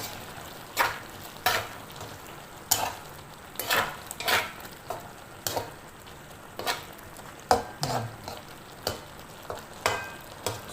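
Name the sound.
stirring shrimp frying in a pan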